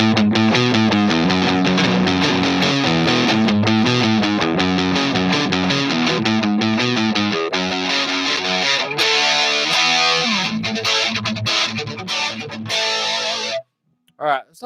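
An electric guitar played through a Headrush distortion effect gives a thick, sustained, continuously strummed tone that stays loud before cutting off abruptly near the end.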